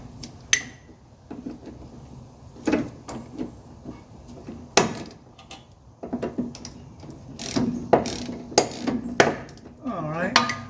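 A 17mm wrench works loose a sway bar nut on a 1985 Mercedes 300CD, giving irregular metallic clanks, clicks and scrapes up close over a low background hum.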